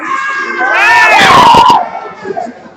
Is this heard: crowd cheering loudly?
yes